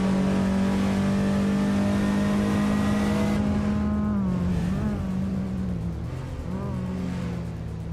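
Lamborghini Jalpa race car engine in a racing video game, a loud sustained engine drone that holds a steady pitch, then dips and wavers as the car shifts and slows, heard close and alone.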